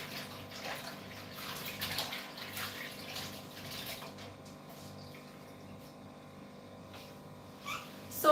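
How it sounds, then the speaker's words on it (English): Hands are washed under a running kitchen tap while dinner is prepared, a steady close wash of flowing water that eases off near the end, with a brief clatter at the finish. "I just need to wash my hands quickly."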